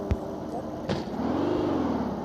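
A slow car driving on the Mars map of a video game, with a steady low engine drone and a rising tone toward the end, plus a couple of brief clicks.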